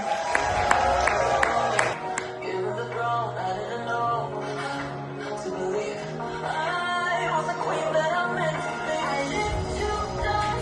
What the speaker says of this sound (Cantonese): 好掌聲、歡呼聲，我哋邀請佢哋出場